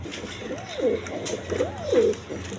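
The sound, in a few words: red shirting pigeons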